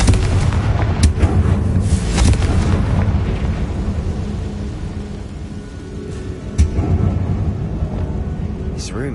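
A Confringo spell blasting in the video game Hogwarts Legacy, heavy booming explosions with rumbling impacts and sharp cracks, loud and sustained with a strong hit midway.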